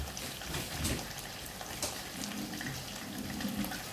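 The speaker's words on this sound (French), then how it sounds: "Moi, je mets de l'eau tiède." Lukewarm water is poured into cake batter for a gâteau tourment d'amour, giving a steady, close splashing pour that runs continuously without a break.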